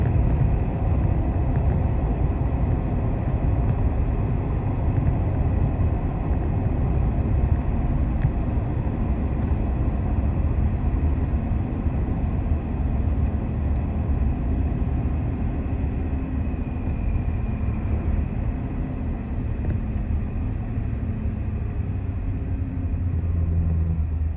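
A 2023-25 Ford F250 with the 6.7 diesel and Banks intake drones steadily from inside the cab with the windows up, a continuous low engine rumble as it downshifts.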